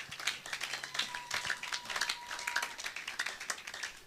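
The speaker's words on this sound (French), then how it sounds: "Acclamons pour la gloire de l'Éternel notre Dieu." A church congregation applauds with dense, continuous clapping that stays at an even pace and moderate loudness throughout, with a faint steady hum underneath.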